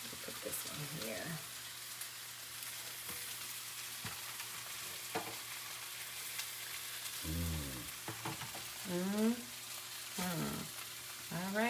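Quiet, steady sizzling of salmon frying in a pan, with clinks and a few brief voices over it.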